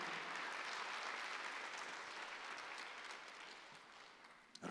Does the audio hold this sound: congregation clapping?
yes